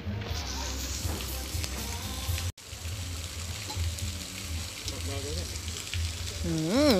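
Soft-shell crab stir-fried over a high flame in a Thai kitchen gives a loud, steady sizzle close by, with brief voices in the background near the end.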